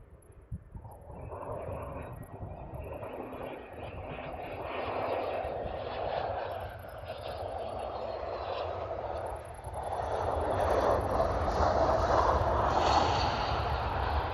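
Airliner landing in windy weather on runway 25L at Brussels Airport, a jet engine roar that builds and swells, growing louder toward the end against gusty wind noise.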